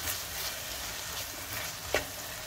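Chicken kefta filling sizzles and fries in a pan while it is stirred, giving a steady crackling hiss with a couple of brief scraping clacks from the utensil.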